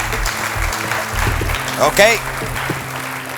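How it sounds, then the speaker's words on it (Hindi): Studio audience applause on a 2009 TV quiz show, a short burst of clapping under a host's voice and background music. "जोरदार तालियां"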